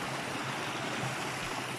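Water tumbling over a small weir on a stream in the Owl Mountains near Bielawa, Poland, a steady, close, continuous rush with no voices over it.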